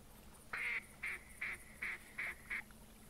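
Duck call in the hunting game The Hunter Classic, six short evenly spaced nasal quacks in a steady rhythm, clear and fairly loud over a quiet background.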